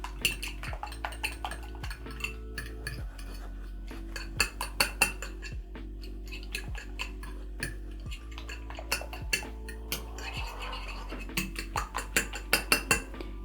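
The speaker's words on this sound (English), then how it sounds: "I'm going to use my fork and whisk my egg." A fork whisks an egg in a bowl at home, a steady run of quick, bright metallic clinks and taps against the dish, close and fairly quiet, with no talking.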